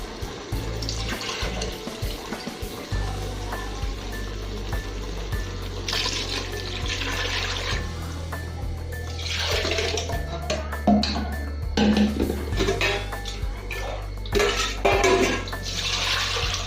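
Water from boiled mutton pours into mutton biryani masala in a pot, a steady splashing stream that lasts throughout with varying intensity, with no talk over it.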